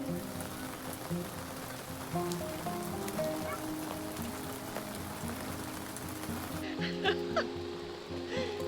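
Steady rain patters on a surface nearby, a constant hiss with scattered louder drops.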